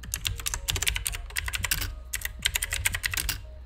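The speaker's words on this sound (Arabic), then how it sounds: "نكتب اسم المكتب" Typing on a computer keyboard while entering an office name into a text box in a Word document, giving rapid bursts of close, crisp key clicks with short pauses between words.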